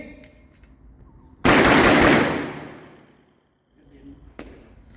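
A single loud, close shotgun blast from a Typhoon Quake at a shooting range, ringing out and decaying over about two seconds, with quiet range ambience before and after and a sharp click near the end.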